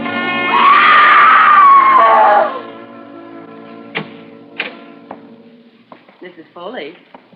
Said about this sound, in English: You mustn't scream like that.